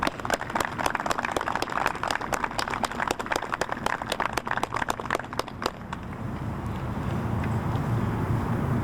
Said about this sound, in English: give him a big round of applause for coming here and swearing these men in